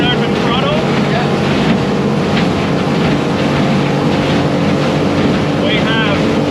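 A motorboat fitted with a Solas 4-blade propeller running at wide open throttle, a steady loud engine roar with rushing wind and water noise, close and continuous.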